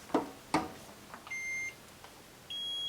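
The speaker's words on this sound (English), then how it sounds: "When my heat press beeps to let me know my transfer is done applying" Two sharp clanks from a heat press are followed by its electronic beeps signaling a finished vinyl transfer, one held for about half a second and another starting near the end, close by in a quiet room.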